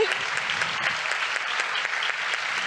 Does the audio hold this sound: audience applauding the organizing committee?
yes